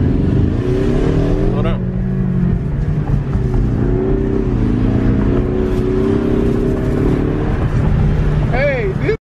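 2019 Ford Mustang GT accelerating hard at full throttle, its engine note climbing steadily under continuous talk from occupants inside the car, ending abruptly.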